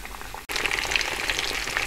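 Pieces of chicken breast cutlet fry in hot oil with a loud, close, crackling sizzle that briefly cuts out, then returns as a steady, bubbly hiss.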